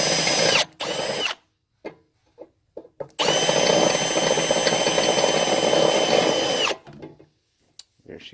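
A handheld power drill whines at full speed while removing oil pan bolts on a 2002 Chevy Silverado 5.3L pickup: short bursts, then a long steady run of several seconds, close and loud, with pauses and clinks between.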